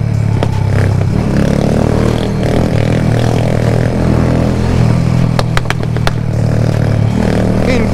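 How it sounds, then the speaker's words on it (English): A scooter with a straight pipe and no muffler idles and revs unevenly up close on a Jamaican street, with a few sharp popping cracks from the exhaust near the end. "A scooter that pop shot"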